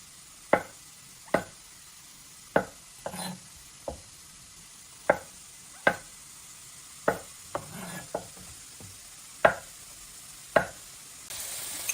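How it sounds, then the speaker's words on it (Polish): Sharp, separate knife taps hit a cutting board at an uneven, unhurried pace, quartering mushrooms, about a dozen cuts with small handling noises between them. "I ja pieczarki kroję do tego sosu na cztery."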